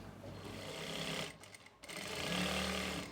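Sewing machine stitching a rough seam around a sleeve, running as a fast, close mechanical rattle that stops briefly mid-way and then starts again at speed.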